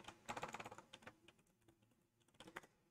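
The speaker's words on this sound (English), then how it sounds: "I'm going to type sudo nano slash boot slash octopi.txt and hit enter" Fingers type a command on a computer keyboard, a close burst of quick key clicks, a pause with scattered taps, then another short flurry.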